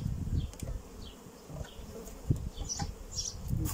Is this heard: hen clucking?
no